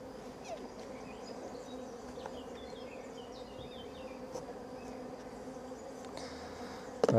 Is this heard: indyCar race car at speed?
no